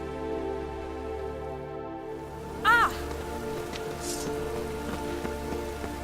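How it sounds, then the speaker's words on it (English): Steady rain hiss fills the scene in The Witcher 3 over a low ambient drone, with a brief tonal chime partway through and occasional faint drips. "Rain again."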